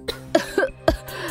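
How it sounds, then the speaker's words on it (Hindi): A woman coughs repeatedly in a cartoon story, four harsh, close coughs in quick, uneven succession, each ending with a brief throaty tail. "तुम ऐसे खांस क्यों रही हो?"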